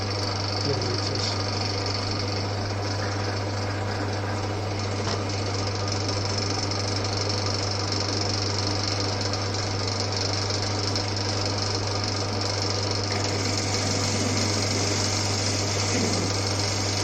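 An old Winfield lathe turns a metal boss with a steady, continuous mechanical drone and a low motor hum that holds unchanged throughout, close by with no talk.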